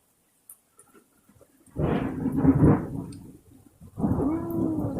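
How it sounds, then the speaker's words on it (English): Thunder rolls in two deep, rumbling bursts after a quiet start, the second one lingering with a low growl, during wind and rain. "Thunder, thunder, and the lightning."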